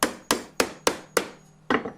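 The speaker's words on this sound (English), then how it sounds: "So here we go, nail that in." Hammer blows drive a nail into a wooden birdhouse: six sharp, close, loud strikes in a quick, even rhythm, with a short pause before the last.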